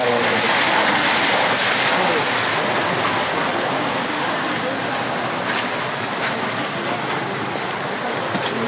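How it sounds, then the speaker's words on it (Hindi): Water pouring and rushing through the Panchakki water-powered flour mill in Aurangabad, a continuous loud roar of flowing water with no breaks, steady and close. "ये पानी बाहर से आता है पूरा,"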